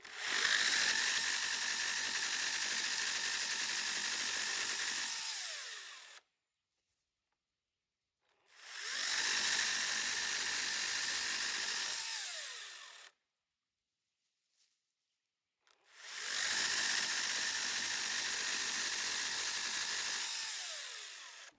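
A gas pole saw's attachment is cranked down tight in three long bursts of dense mechanical ratcheting, each lasting several seconds and separated by brief silences, heard up close with no talking.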